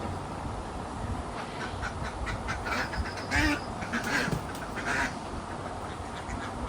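Farm ducks quack in a series of nasal calls near the middle of the stretch, moderately close, over a constant noisy outdoor background.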